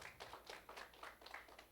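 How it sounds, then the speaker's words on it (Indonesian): A church congregation claps during a Sunday worship service, a faint, brief run of quick irregular claps heard from a distance. "Yang percaya berikan tepuk tangan bagi Tuhan kita."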